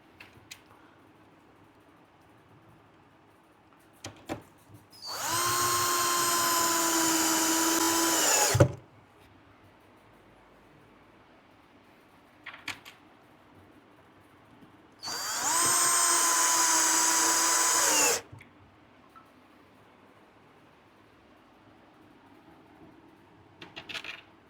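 A power drill driving screws into a wooden speaker box in two loud bursts of about three seconds each, whirring at steady pitch, separated by quiet handling clicks and rustles.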